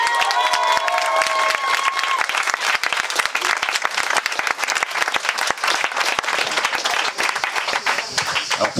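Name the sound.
wedding guests applauding and cheering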